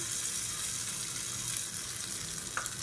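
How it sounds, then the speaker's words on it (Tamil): Hot tempering of mustard seeds, urad dal and curry leaves is poured into a mixed-vegetable kadamba chutney, giving a steady sizzling, frying hiss throughout with a faint splash near the end. "இப்போ கடுகு உளுந்து கருவேப்பிலை போட்டு தாளிச்சதை கொட்டிக்கலாம்"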